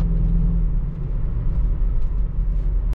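A stock BMW X5 4.4i E53 with 286 hp runs on LPG while accelerating on a highway, heard from inside as a steady, deep engine rumble with road noise that ends abruptly.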